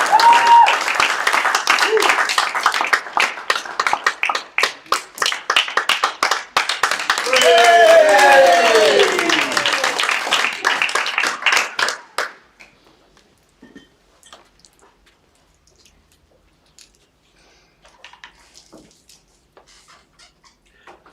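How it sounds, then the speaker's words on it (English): Audience applause at a live auction, dense clapping that fades to scattered claps and then near silence, with a voice heard briefly over the clapping. "Give him a great round of applause."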